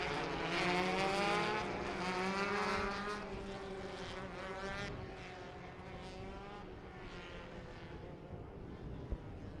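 Race cars at the Cooper Tires Freedom 75 circulate slowly under a caution, a steady drone of several engines with shifting harmonic tones, louder at first then settling into a continuous distant hum.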